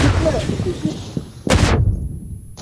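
A grenade bursts in a PUBG match, a sudden heavy blast that rises over ongoing rumble and players' voices, close and loud, with a brief sharp crack trailing after.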